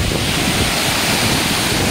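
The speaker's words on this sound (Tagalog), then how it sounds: "Ito na yung waterfalls." Waterfall in Lagayan, Abra, a steady loud roar of rushing, churning water filling the whole clip without a break, with some wind buffeting the microphone.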